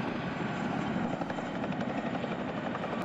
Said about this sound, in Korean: 코브라 헬기의 엄호를 받으며 UH-60 블랙호크가 특전사 요원들을 태우고 기동합니다